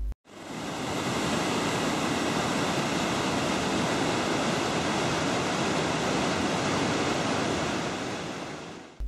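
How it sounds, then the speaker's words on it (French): The Iguazu waterfalls on the Argentine side produce a dense, constant roar of falling water that stays steady and loud throughout, with no voices. "ce sont les cascades argentines qui se trouvent face à nous."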